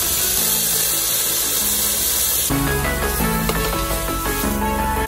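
Black pepper, red chili powder and turmeric sizzle with seared beef in a hot pan for a beef and potato curry, a loud, continuous hiss that sits under steady background music.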